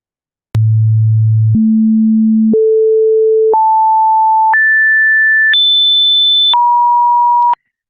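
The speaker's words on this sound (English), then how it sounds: "the 3500 hertz tone we heard" Pure sine test tones in a lecture step upward through several pitches, each held about a second, reaching a steady 3500 hertz tone before dropping back to a middle pitch; clean, loud and continuous with no talk.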